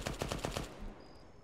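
Rapid automatic gunfire in the military video game Arma 3: about six close, punchy shots in a quick rhythmic burst, then fading into a ringing, echoing tail with a faint high tone.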